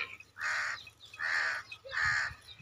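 Three loud, harsh crow-like caws come at a steady, evenly spaced rhythm from a bird near farm fields, with low background hum between calls.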